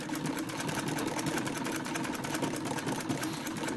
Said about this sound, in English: We're going to go ahead and sew around the perimeter